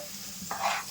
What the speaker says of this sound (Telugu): ఇందులో ఇప్పుడు సొరకాయ ముక్కలు వేసేస్తున్నాం